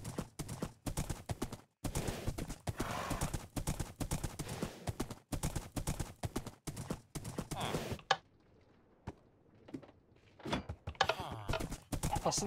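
Hooves of a Minecraft horse clip-clop in a steady rapid rhythm of close, loud blocky footfalls, pausing briefly and then returning with scattered separate thuds, with no talking over them.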